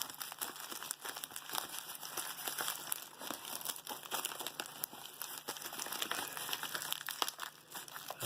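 Crisp, close crinkling and snipping of plastic packaging, with irregular cutting sounds and crunches continuing steadily throughout.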